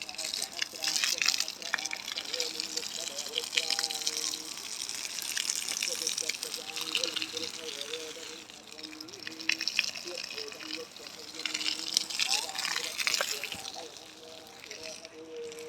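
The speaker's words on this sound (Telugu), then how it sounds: "జనప మొక్కలకి ఈ విధంగా నీరు మనము పుష్కలంగా పలాసగా పెట్టుకోవాలి" Irrigation water gushes and splashes steadily onto the soil around sunn hemp plants nearby, with a person talking over the flow throughout.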